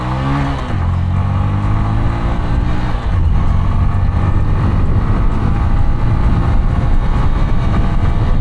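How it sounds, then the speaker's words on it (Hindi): A Bajaj Platina 100 motorcycle accelerating on a ride, its engine rising in pitch through a rev then settling into a loud, steady drone close to the microphone, with wind rush. "तो सबसे पहले लॉन्च करते हैं इस बाइक को,"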